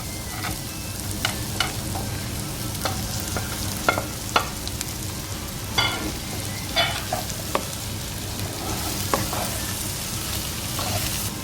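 Potatoes for masala dosa filling fry in a pan, a steady hissing sizzle broken by sharp scrapes and taps of a spatula at irregular intervals, close by with no talking.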